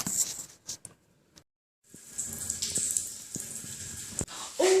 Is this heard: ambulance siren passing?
no